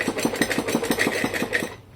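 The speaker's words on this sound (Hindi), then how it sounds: "1/2 इंच के मार्जिन लेकर के इस पे मैं सिलाई चला दूँगी" A sewing machine runs a straight seam on a pair of pants at a half-inch margin, a steady rapid rhythmic needle chatter close by that stops just before the end.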